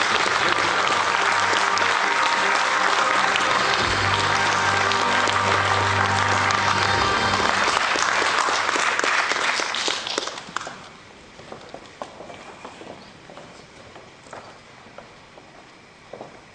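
Dense, loud applause from an event crowd greets Janusz Lewandowski on stage, then thins out abruptly into scattered claps and footsteps.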